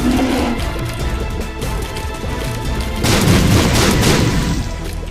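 Troll bombs exploding in The Binding of Isaac, loud booming blasts over busy game noise, with a stronger burst of explosions in the second half.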